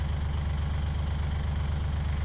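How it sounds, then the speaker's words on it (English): A tractor engine idles in a farm field before discing and planting, a steady low rumbling throb with even, rapid pulsing, close and continuous. "hop on the tractor and ride down in the field"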